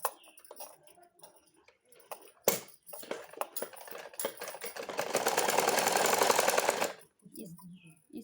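A sewing machine stitches a matka-neck blouse. A few scattered clicks and taps lead into a steady, close mechanical whir that runs for about two seconds, then stops.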